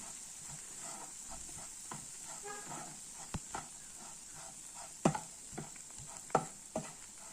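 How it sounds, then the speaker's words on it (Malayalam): Pork fry masala stirred in a pan while it sizzles, a soft continuous hiss broken by scattered scraping knocks of the spoon against the pan, a few louder ones near the end. "ഈ പച്ചമണം നല്ലതുപോലെ മാറുന്നവരെ ഇളക്കിക്കൊണ്ടിരിക്കണേ"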